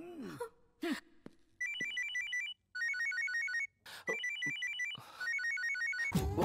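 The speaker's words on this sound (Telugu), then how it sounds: "అతను ఫోన్ ఎలా రింగ్ అవుతుంది? అందరు ఫోన్ రింగ్ వినే కదా తిరిగి చూసారు" A mobile phone ringtone plays in bursts of bright, repeating electronic tones, broken by short gaps and a few sharp gasps or voice sounds.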